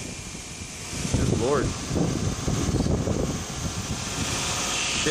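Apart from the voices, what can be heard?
strong wind blowing across the microphone outdoors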